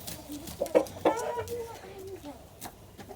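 A few close clucks and short squawks come from roosters and hens in a farmyard, with quieter background noise in between.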